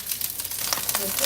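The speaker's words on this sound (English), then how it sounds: "The sizzle because of the water that's in the asparagus." Water clinging to rinsed, undried asparagus sizzles and crackles in a hot pan, a steady close frying hiss with sharper pops toward the end.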